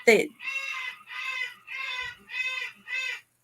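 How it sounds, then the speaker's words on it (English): A pet parrot squawking angrily indoors: one sharp shriek, then a series of five harsh, evenly spaced nasal calls, close and loud. "that's my parrot. I don't know if you hear her, she's mad."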